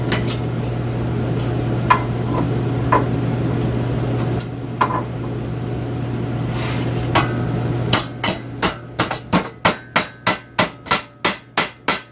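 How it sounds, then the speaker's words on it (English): A steel flange on a homemade camping wood stove is struck to set a rivet. Scattered sharp metallic taps over a low hum build into a quick, evenly spaced series of about a dozen loud hammer blows near the microphone. "I can rivet that onto the bottom and slide this through"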